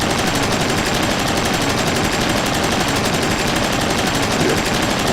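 A ship-mounted gun firing continuously in the video game Space Engineers, a steady, unbroken roar of rapid shots at constant loudness for the whole stretch.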